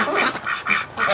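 A wintering duck calls with a few loud, nasal quacks in quick succession, close by and clear, repeating roughly every quarter to half second with no talk.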